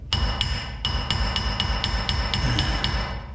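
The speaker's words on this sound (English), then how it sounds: "A few gentle taps with a chisel" A chisel is struck with about a dozen light, evenly spaced taps during a shaft separation job, each a sharp, ringing metallic click, close and clear over a low background rumble.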